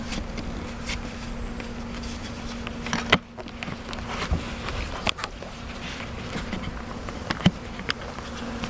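Honey bees hum in a close, continuous drone, with faint ticks and light taps scattered throughout and no talking.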